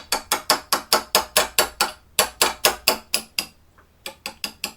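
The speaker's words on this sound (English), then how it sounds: "So we're just going to drift this across." A punch tapped repeatedly to drift the trigger pin out of a Remington 700 action, a fast series of sharp metallic taps in a steady rhythm, briefly pausing twice before resuming, close and distinct.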